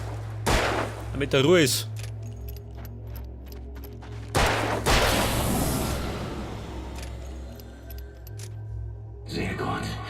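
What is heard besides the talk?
revolver gunshots in the video game Alan Wake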